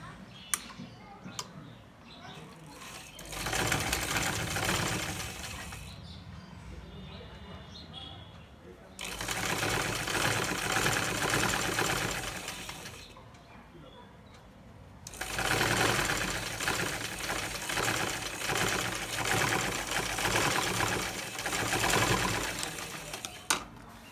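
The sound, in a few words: sewing machine stitching blouse hook and eye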